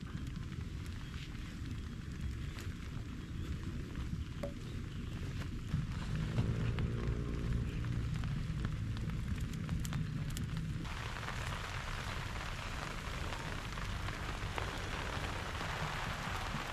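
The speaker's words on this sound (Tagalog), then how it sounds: "Ayan, umaambon na nga." Steady broadband hiss of light drizzle falling on surfaces in a small forest, continuous and fairly soft, growing a bit brighter partway through, with no voices.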